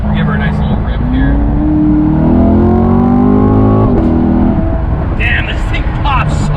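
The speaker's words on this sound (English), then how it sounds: "That's about half throttle, and if you hear that, this thing pops so freaking loud." A 2017 C7 Corvette Grand Sport engine revs at about half throttle, loud rising exhaust drone with sharp popping near the end, close and continuous; voices cut in briefly afterward.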